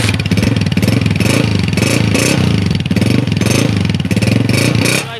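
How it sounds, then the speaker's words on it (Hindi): A used Yamaha YB125Z or Honda down-model motorcycle running right after a kick start, its engine putting out a steady, loud, close mechanical chug with a rhythmic pulse throughout. "पहली किक पे बाइक स्टार्ट हुई है"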